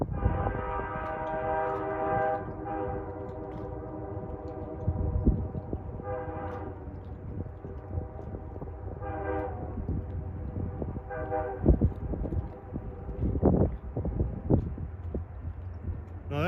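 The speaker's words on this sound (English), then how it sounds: "Kind of an unusual horn for a P32" An Amtrak P32 locomotive, number 280, sounds its horn in a string of sustained chord blasts, some long and some shorter, over a low rail rumble that carries from a moderate distance outdoors.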